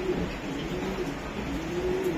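A racer pigeon coos softly in a low, repeated rolling call, faint and close, over a steady quiet background.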